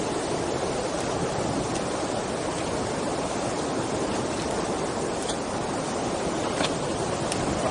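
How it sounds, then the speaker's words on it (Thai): A large volume of water pours over an overflow weir at Erawan in Loei province, Thailand, making a steady, loud, broadband rush that holds even throughout with no talk over it. "นี่น้ำเยอะหว่อ"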